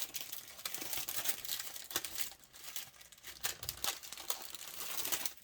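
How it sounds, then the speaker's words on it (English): Plastic bags of diamond painting drills crinkle and rustle continuously as they are sorted through, with dense crackling bursts close to the microphone and no talk. "Pardon the crinkly noises while I find them."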